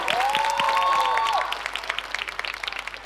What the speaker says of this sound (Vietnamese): Một tràng pháo tay cho phần trình diễn của Sonic Boom.